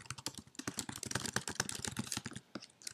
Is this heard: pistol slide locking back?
no